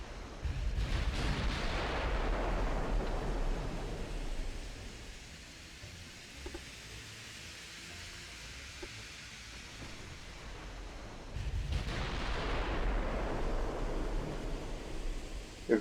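Battleship gunfire in the Ultimate Admiral Dreadnoughts naval video game: two heavy, rolling booms that swell into long rumbling washes, one at the start and one near the end, with a quieter stretch between them.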